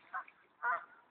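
Swans honk at a park pond in Small Heath, Birmingham: two short nasal calls about half a second apart, the second louder and longer, heard alone.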